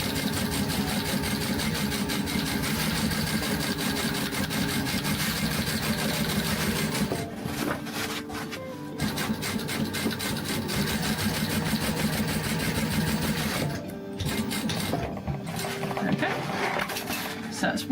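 A sewing machine stitches in rapid mechanical bursts, loud and close, with brief pauses between runs.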